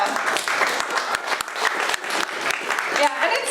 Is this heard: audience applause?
yes